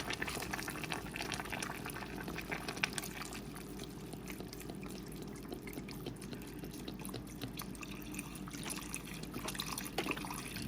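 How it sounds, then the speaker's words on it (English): A quart of beef broth pours into a pot holding seasoned oxtail and rump roast, a soft, steady liquid trickle and splash at moderate distance that continues throughout. "Then I'm going to add a quart of beef broth."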